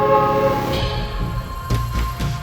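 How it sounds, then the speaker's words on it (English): A train passes outside, a steady low rumble with a sustained tonal horn-like drone and rhythmic rail clatter, moderately loud and continuous with no talk. "So I was just having a look out the window over there at that lovely train."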